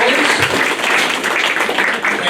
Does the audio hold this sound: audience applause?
yes